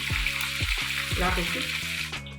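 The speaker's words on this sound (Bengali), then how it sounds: "দেখো অনেকটাই ফ্রাই হয়ে গেছে" Chicken leg pieces fry in hot oil, a steady dense sizzle with soft crackles and a low tonal hum running under it, close and continuous throughout.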